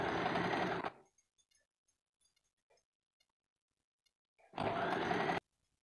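A sewing machine stitches a katori blouse in two close, steady bursts, one at the start and another near the end, with quiet handling of fabric between them.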